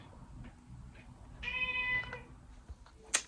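A cat meows once, then gives a short high mew near the end, moderately close, against a faint background hum.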